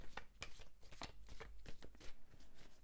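Close, crisp riffling and snapping of playing cards being shuffled, in quick repeated bursts with brief pauses between them.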